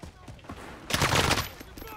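Gunfire in a video game, a dense burst of shots in the middle of the clip after quieter clicks and sounds, with faint voice nearby.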